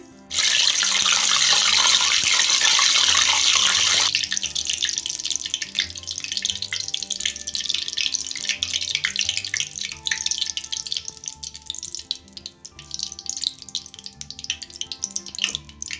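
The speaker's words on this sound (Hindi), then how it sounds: "अब ऐसे ही हम करी पत्ते फ्राई कर लेंगे।" Curry leaves drop into hot oil in a home kitchen and set off a loud, dense sizzling burst that stays steady for about four seconds. A softer, continuous crackling frying sound follows and carries on to the end.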